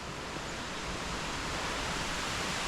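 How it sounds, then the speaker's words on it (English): Rushing water of the Silver Waterfall in Sapa, a steady, dense broadband roar heard from the top of the falls, constant and loud with no voices. "we're now on the top of the waterfall, on top of the world."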